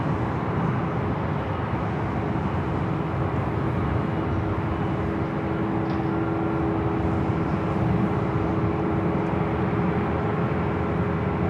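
A Delta Airbus A350 rolls down runway 24 left at LAX for takeoff, a loud sustained engine roar with a steady tonal hum running throughout, dense and unbroken from start to finish.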